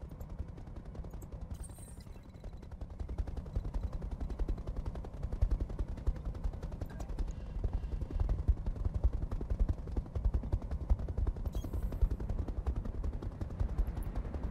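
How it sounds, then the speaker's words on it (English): Laser weapon fire in Roguetech, a BattleTech mech combat game: a steady, dense stream of rapid crackling pulses with low rumbling underneath, moderately quiet and continuous throughout. "Let's remove those and just fire the laser then."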